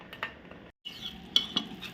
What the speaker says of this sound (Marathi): तोपर्यंत असंच आपल्याला ढवळत राहायचं आहे